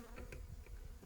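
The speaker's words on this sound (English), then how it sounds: "oh, they got a bee." A bee buzzes close by during a honey harvest, a brief, quiet, wavering drone rising and dipping over soft background noise with no talk.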